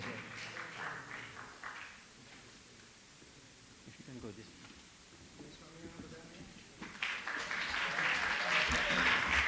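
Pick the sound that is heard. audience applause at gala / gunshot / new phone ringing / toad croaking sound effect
audience applause at gala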